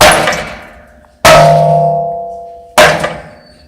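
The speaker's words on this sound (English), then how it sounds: "Now we're going to hit this one with the sound dampener." A Brunswick A/A2 bowling pin setter pinwheel is struck three times with a sound dampener fitted, each loud metallic clang decaying quickly rather than ringing on, with spaced hits and no talking.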